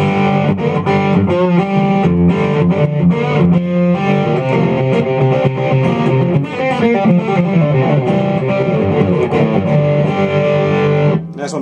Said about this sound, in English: This is just a setting with like a pretty heavy distortion, but not over the top.